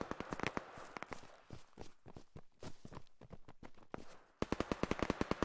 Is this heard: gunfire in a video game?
yes